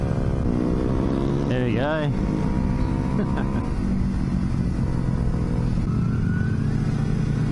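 A tiny mini moto motorcycle revs in a quick rising burst, then its engine note fades under the steady wind and road roar of a moving Kawasaki Ninja, while someone talks throughout.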